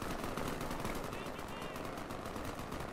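Dense, continuous automatic gunfire from a Garry's Mod battle between Terminators and military spec ops in a city, loud and unbroken throughout with voices faintly mixed in.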